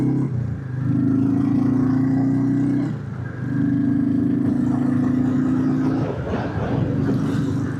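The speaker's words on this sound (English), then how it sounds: "the bike would cut out now if I just let it idle there" A Royal Enfield Classic 350 motorcycle engine idles with a steady, low, humming thump, briefly sagging as if about to cut out before picking back up, heard up close.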